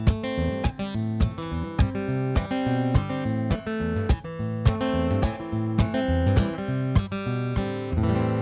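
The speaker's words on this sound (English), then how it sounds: "This is the sound of the guitar with BodyRez turned off." An electroacoustic guitar is heard through its pickup with the BodyRez effect switched off. Strummed chords with rhythmic attacks ring out close and full for several seconds, with no talk.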